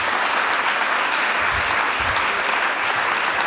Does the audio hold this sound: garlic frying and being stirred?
no